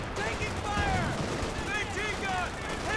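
A half-track at Vet 4 veterancy in a Company of Heroes 2 2v2 match fires rapid, sustained gunfire that continues without a break inside dense, loud battle noise.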